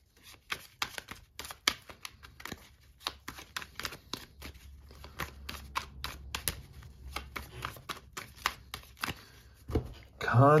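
Tarot cards are shuffled close up in a rapid run of crisp riffles and slaps, repeating in uneven bursts, with a short rustle at the end.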